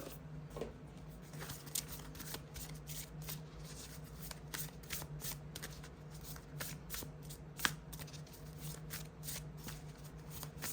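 A deck of Seasons of the Witch Yule oracle cards is shuffled by hand in a steady run of quick riffling, flapping card sounds with a few sharper snaps, close and fairly quiet, with no talking.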